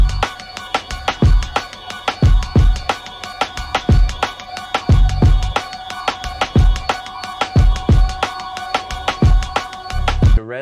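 A simple, open hip-hop beat plays on its own, with steady punchy kicks and bright, busy hi-hats over a sustained chordal loop, loud and evenly rhythmic throughout.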